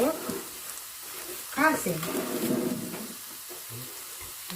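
Marinated pork hits a hot pan for Ilocano igado and sizzles with a soft frying hiss. The hiss rises briefly midway while a person talks quietly over it.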